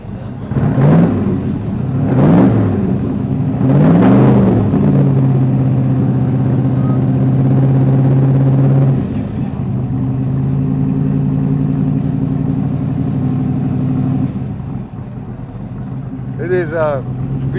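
A Shelby Cobra 427 with a naturally aspirated V8, a historic car adapted for modern driving, starts up and blips its throttle in several loud revs, then settles into a deep, steady idle. A voice speaks briefly near the end.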